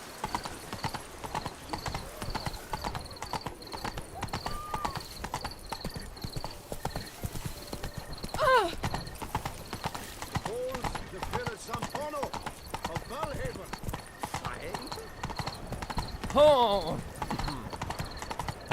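Horse galloping in the video game The Witcher: Wild Hunt, with a rapid, steady clip-clop of hooves throughout and a couple of brief whinnies, under game music and voices.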